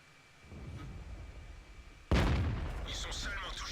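A single loud tank cannon shot in World of Tanks, fired from a French AMX AC 46 tank destroyer, bursts in sharply after a quieter rumbling stretch and leaves a long decaying boom with crackling tail.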